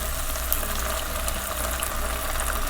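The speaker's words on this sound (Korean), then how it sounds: "요때 물을 넣을 건데 물을 처음에 많이 넣으면 안 되고" Water pours steadily into a pot of seaweed stir-fried in perilla oil, starting tofu seaweed soup; a continuous close splashing hiss runs the whole time with no talk.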